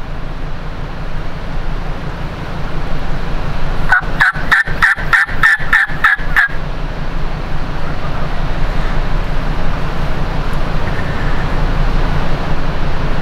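Wild turkeys gobble near their roost in Eastern Washington, one burst of about eight rapid, loud gobbling pulses lasting a couple of seconds, set against steady outdoor background noise.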